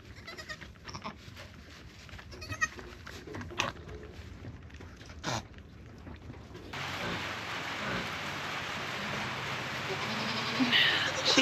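Steady rain falls outside a goat barn during kidding day, a hissing wash that swells louder midway, with goats bleating faintly and occasional handling noises nearby.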